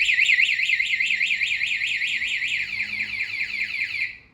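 A loud motorcycle anti-theft alarm on a 2019 Honda Scoopy-i scooter warbles rapidly up and down in a continuous siren pattern, then cuts off abruptly at the end.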